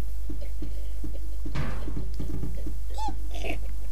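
Game cat's meow from the Machinarium world, a few short cries with a bending tone near the end, set amid busy background game sounds and soft clanks, no talking.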